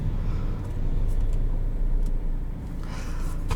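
A 2015 Volkswagen Jetta TDI diesel car accelerating in sport mode, its steady low engine rumble and road noise heard from inside the cabin at moderate level, with no talk.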